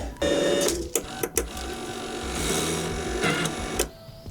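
An Arccaptain 205 welder being loaded with 035 welding wire gives off a close mechanical whir and feed-motor buzz, broken by a few sharp clicks and clunks, with no voices.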